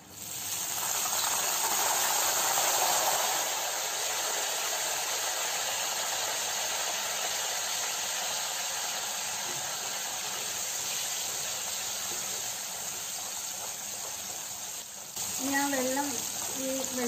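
Banana chips frying in oil over a medium flame give a constant, close, bubbling hiss throughout. A brief voice comes in near the end.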